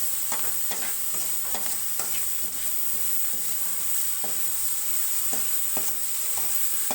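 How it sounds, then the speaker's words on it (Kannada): Sprouted moth bean curry with coriander powder fries in a pan for a North Karnataka style dish, giving a steady close sizzle broken by repeated stirring scrapes, with no talking. "ಸೊ ಇವಾಗ ಇದು ಚೆನ್ನಾಗಿ ನೀಟಾಗಿ ಫ್ರೈ ಆಗಬೇಕು"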